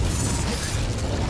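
An Incendio fire spell is cast in the video game Hogwarts Legacy, a loud, continuous roaring burst with crackling, rumbling texture throughout.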